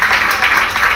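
Audience applause for the performers Kamini, Naina and Renu at a Ram Lala stage show, a dense, steady wash of many hands clapping close by, filling the whole moment without pause.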